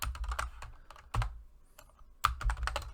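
Quick bursts of keystrokes clatter on a computer keyboard, close and fairly quiet, with short pauses between typed words.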